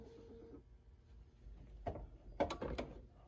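A sewing machine puts a couple of short stitches into a pant seam, with brief mechanical whirring bursts separated by pauses and a faint hum at the start.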